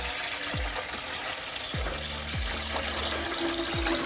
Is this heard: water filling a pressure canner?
yes